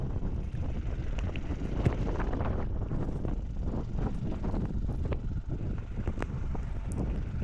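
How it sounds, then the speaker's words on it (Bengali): A strong, cold wind blows at a high mountain lake in North Sikkim, a steady roaring rush that buffets the microphone without pause for several seconds. "এইখানে কিন্তু আবহাওয়া তেমন একটা ভালো নয়, প্রচণ্ড ঠান্ডা হাওয়া বইছে।"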